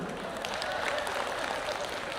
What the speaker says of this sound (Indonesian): Ibu-ibu kok tepuk tangan?